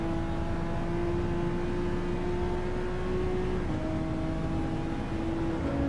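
A race car engine in Gran Turismo 7 drones steadily at high revs as it is held in gear and wound out, with a brief pitch shift midway like a gear change.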